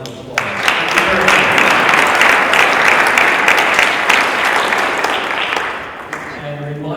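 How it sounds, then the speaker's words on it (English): Sustained applause fills a Rotary Club meeting, steady and loud for several seconds before tapering slightly at the end, with faint voices mixed underneath. "Let's give them a round of applause."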